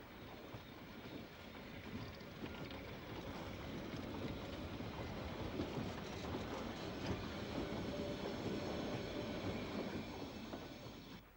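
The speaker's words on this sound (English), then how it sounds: "This short train at Stalden has one of the line's 4 DEH 44 locomotives at" A BVZ line DEH 44 locomotive heads a short freight train at Stalden, producing a steady, close rumble with rail clatter that swells slightly and holds for the whole stretch, with no voices.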